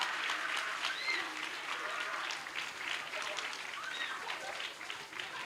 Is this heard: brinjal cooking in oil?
no